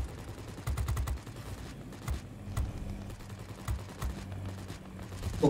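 Machine gun fire from warplanes in the video game World of Warplanes crackles in quick, irregular volleys, with sharp rapid shots over a low rumbling background.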